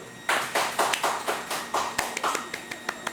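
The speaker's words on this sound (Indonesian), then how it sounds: "tepuk tangan dulu" A small group claps hands in a casual studio chat show setting, a short run of distinct, slightly uneven claps repeating in a steady rhythm at close range.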